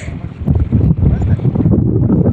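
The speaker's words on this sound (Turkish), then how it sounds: "Böyle hava rüzgar çıktı." Strong gusting wind over a lake roars steadily across the microphone, a loud low rumble with buffeting that persists throughout.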